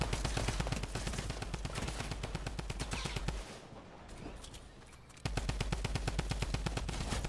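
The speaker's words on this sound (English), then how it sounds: "Dual drum guns. Let's see how this goes." Rapid automatic drum gun fire in Fortnite, a loud, close stream of rattling shots that pauses briefly midway and then resumes at the same fast rate.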